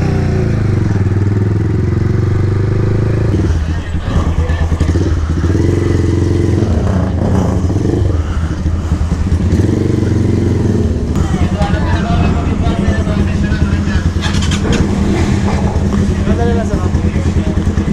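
A Xvia 250 motorcycle engine idles and revs nearby, loud and continuous, while people talk over it.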